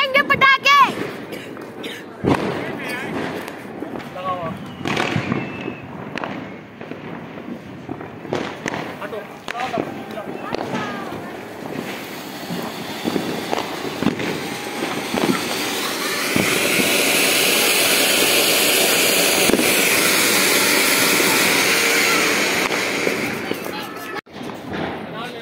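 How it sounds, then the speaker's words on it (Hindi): Rapid Diwali firecrackers crackle and pop in bursts, building into a dense sustained crackling roar, with voices talking nearby at the start. "पीछे बहुत सारे पटाखों का शोर है"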